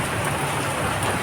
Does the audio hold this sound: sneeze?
no